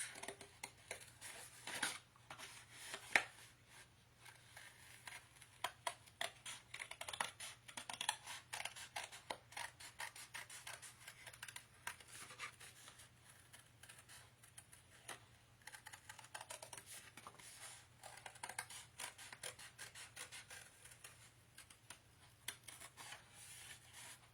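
Quiet, dense crisp snips and scraping clicks of a blade working through stiff board, continuing steadily with a low hum underneath.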